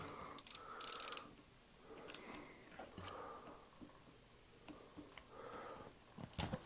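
Torque wrench tightening a greased bicycle rear axle to 10 newton meters, faint repeated ratcheting clicks in short bursts across several strokes, quiet and close with no talk.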